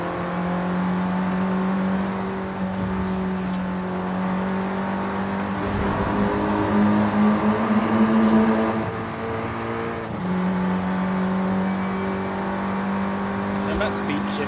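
A Mini John Cooper Works GP's engine hums and revs in a racing game driven with a Logitech G920 wheel, pitch climbing and dropping at deliberate gear changes, with someone talking over the steady drone.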